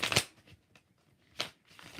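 Tarot cards are shuffled in quick riffling bursts, one sharp flurry at the start, then two more after brief pauses, crisp and close with no talking.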